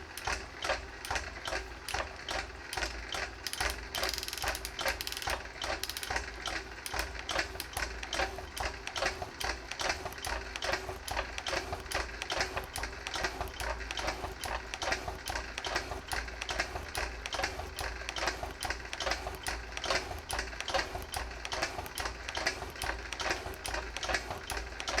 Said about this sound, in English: I need to keep cutting downwards until I get the step cut out to the final depth.